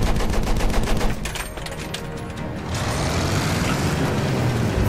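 Enemy machine gun fire rattles in rapid bursts in the Battlefield 1 war game, loud and close, followed by a dense rumble of battlefield noise and engine drone.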